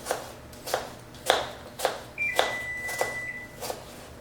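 An oven sounds a single high electronic beep, a sustained tone that signals it has preheated to 400 degrees, heard clearly among rhythmic knife chopping in a home kitchen where apple raisin bread is being made.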